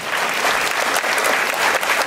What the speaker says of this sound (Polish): Jeszcze raz ogromne brawa.